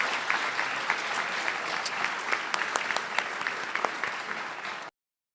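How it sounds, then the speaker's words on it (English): Audience applause for graduating seniors at an annual award dinner, a steady dense wash of many hands clapping for about five seconds before cutting off abruptly. "I want us all to give a big round of applause for all of these wonderful graduating seniors"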